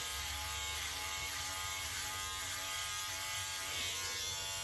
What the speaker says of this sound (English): I could throw this trimming attachment on and I can trim the sideburns